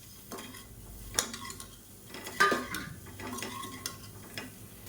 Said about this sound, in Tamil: இந்த முட்டை எல்லாத்தையுமே இதில் சேர்த்து நல்லா வறுத்துக்கலாம்